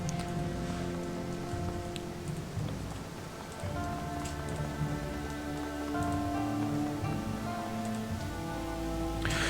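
Steady, pelting rain in Shadowrun Hong Kong hisses continuously throughout, layered with a low musical drone and occasional ticking drops.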